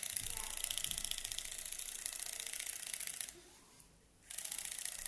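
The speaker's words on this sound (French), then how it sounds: "J'humidifie la brosse et c'est parti pour 2 minutes" A Lumispa facial cleansing brush, moistened and running, gives off a steady high-pitched electric buzz that cuts out for about a second and then resumes, close to the listener.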